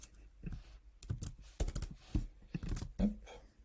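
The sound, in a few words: typing on a computer keyboard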